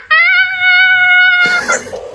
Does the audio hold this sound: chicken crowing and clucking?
no